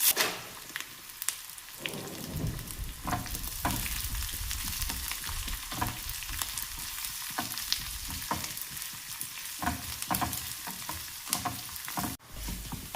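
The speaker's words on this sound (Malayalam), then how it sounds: "ഉള്ളിയൊക്കെ നന്നായിട്ട് ചുവന്ന് വന്നിട്ടുണ്ട്." Onions frying in a pan give a continuous crackling sizzle with frequent sharp pops and utensil taps, heard up close and fairly quiet throughout.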